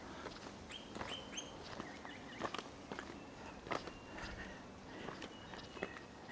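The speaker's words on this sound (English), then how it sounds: "me making a noise when I am walking with my jandals on" Footsteps in jandals slap and scuff steadily along a forest track, close and irregular, with a few faint bird chirps in the background.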